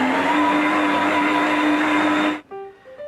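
An electric mixer whirs loudly and steadily through butter cookie dough for Danish vanilla cookies, then cuts off abruptly, followed by a few quiet electronic beeps.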